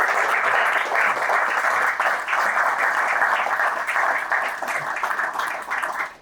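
A large audience at a Pearl Harbor Day lecture applauds veterans, a broad, even wash of clapping that holds steady and loud for several seconds before tapering off at the end.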